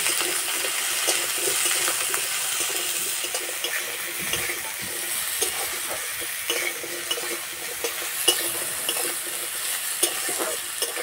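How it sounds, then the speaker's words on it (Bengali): Pieces of potato and eggplant fry in a pan of oil, a continuous sizzle broken by frequent clinks and scrapes of stirring that keep returning at an uneven pace. "আলু আর বেগুন ভালো করে ভেজে নেব।"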